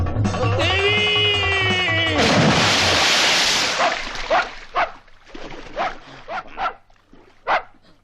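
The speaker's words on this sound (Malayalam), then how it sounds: "പട്ടിയായിരുന്നു." A dog barks several times in short, sharp bursts after a loud noisy rush, fairly near, with no talk over it.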